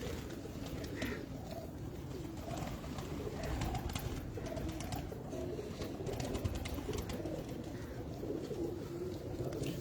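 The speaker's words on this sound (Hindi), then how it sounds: "देखिए है वो जो फिरोजपुरी कबूतर है ना किरला" Ferozpuri kirla pigeons coo softly in a loft, their low murmuring calls running steadily through the whole stretch beneath a constant hum of background noise, with no clear voices.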